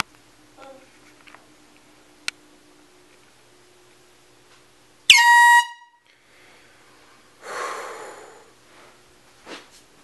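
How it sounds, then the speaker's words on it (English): An air horn blasts indoors to wake someone, one loud, piercing burst of about half a second cutting through quiet room sounds, followed by rustling and a short snort-like breath. "This is early morning air horns."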